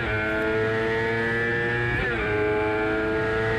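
Motorcycle engine during track riding at a race circuit, a continuous loud high revving drone with a steady tonal whine and a brief pitch dip mid-way.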